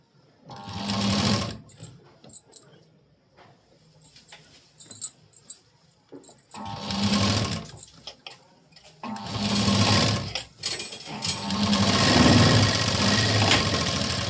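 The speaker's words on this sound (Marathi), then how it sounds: "अगदी सावकाश असं कपड्यावरती कपडा ठेवत ठेवत स्टिच करायचं" A sewing machine stitches a blouse sleeve in several loud whirring runs of varying length, separated by quiet pauses with small handling clicks and someone talking softly.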